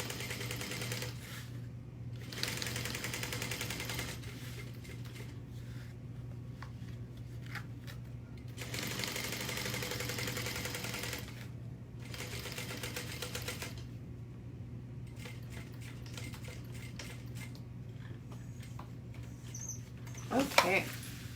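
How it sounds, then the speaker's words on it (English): A sewing machine top stitches a business bag at a long stitch length, running in steady rapid bursts separated by short pauses, close and fairly loud, with a constant hum between runs. "at 1/8 of an inch, I'm just going to top stitch"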